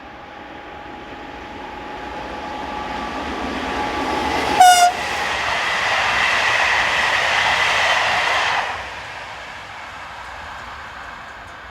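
SNCF locomotive number 7242 running on the Orléans to Paris line, building from a distant rumble into a loud rushing pass with a brief sharp horn blast midway, then fading.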